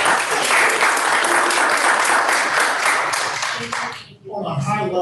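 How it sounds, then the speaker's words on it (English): A room at a school board meeting breaks into a round of applause: several seconds of dense, loud clapping that fades as a voice starts talking. "let's give her a round of applause"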